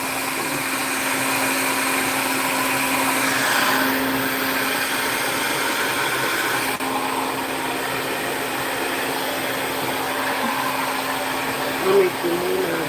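A blow dryer runs steadily and loudly throughout with a constant whirring hum, broken by only a brief bump near the end.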